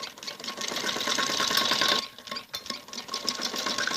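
A sewing machine stitches lace onto the neckline of a kameez jacket, running in a fast, steady whirring burst, pausing briefly, then resuming with quicker stop-start runs, close and clear.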